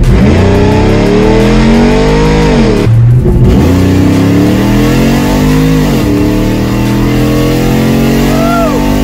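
A Ram pickup truck engine revs hard on a nitrous hit, loud and close, with rising and falling roaring sweeps, a brief shift break partway through, then more climbing revs.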